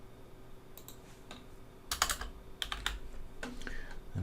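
Soft computer keyboard presses for copy-and-paste shortcuts come in a few scattered clicks, then a quick cluster of taps, all fairly quiet and close against a faint background hum.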